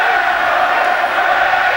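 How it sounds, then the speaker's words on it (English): A rugby crowd roars continuously as supporters shout their team on near the try line, a broad sustained wall of massed voices without distinct breaks, loud and even throughout. "The crowd getting rid of their nerves by shouting their team on."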